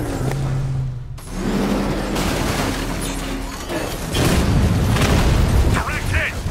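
Explosions boom through a Batman: Arkham Knight battle with tanks, a dense run of heavy blasts and crackling bursts, loud and continuous, growing stronger toward the end.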